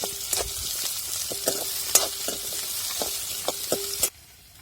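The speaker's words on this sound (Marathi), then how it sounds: "आपल्याला आहे ना कांदा परतून घ्यायचा आहे" Onion sautés in a pan with a bright, continuous sizzle, punctuated by repeated scraping clicks of a spatula stirring; the frying cuts off abruptly near the end, leaving near silence.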